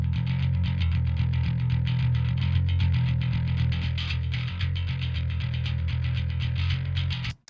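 A bass guitar runs through distortion and a second stage of EQ, playing fast repeated picked notes with a thick, loud low-end tone for several seconds before cutting off abruptly.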